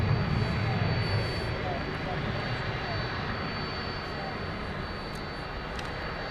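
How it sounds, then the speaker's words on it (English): A pair of UPS Boeing 767 jets move around the airport, their engines a broad steady roar heard from a distance, slightly louder at the start, with no talk over it. "we've got a couple of UPS jets on the move. Both of them 767s"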